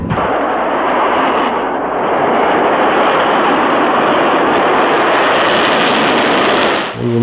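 A Cold War–era test missile lifts off from Vandenberg, producing a loud, continuous roaring rumble that fills the whole stretch and cuts off abruptly near the end.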